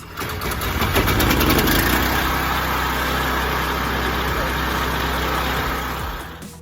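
A gas-powered pressure washer engine runs right after being pull-started, a loud, rough, steady mechanical drone that holds evenly and then cuts off abruptly at the end.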